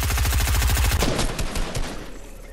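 Rapid automatic gunfire in a video game, loud and close, in a dense continuous burst that thins out and fades near the end.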